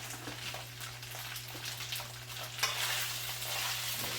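A fork stirs shrimp and chicken fried rice in a hot pan, producing a continuous soft sizzle with scraping stir strokes. The sound is fairly quiet and close, and a low electrical hum runs underneath.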